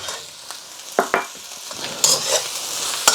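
Prawn fried rice with sesame oil and spring onions is tossed in a hot pan over a soft background sizzle. A few sharp scrapes and clatters from stirring come near the middle and at the end.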